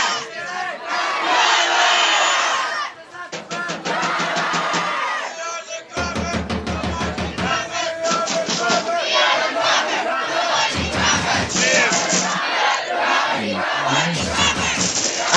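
A packed crowd at a schools senior rugby league final roars and chants from all around, loud and continuous, with bursts of cheering and shouting voices swelling and dropping.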